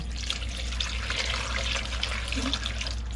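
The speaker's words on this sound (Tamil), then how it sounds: "இதில் ஒரு மூணு கப் கிட்ட தண்ணி ஊற்றிருக்கேன்" Water poured steadily into a pressure cooker while cooking lotus root, a continuous close splashing trickle with no talk.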